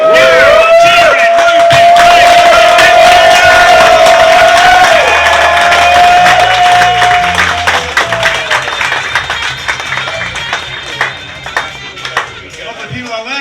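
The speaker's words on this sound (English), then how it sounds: "Start the clapping." A comedy club crowd in Leicester claps, whoops and cheers loudly as a comedian is brought on, with a long shrill whistle over the roar before it thins into scattered clapping and calls.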